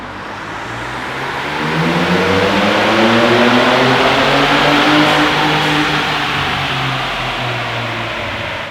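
A tuned Ford Ranger Raptor pickup accelerates hard with its tires spinning, the engine note rising and surging loud and close for several seconds before easing slightly, with no talking.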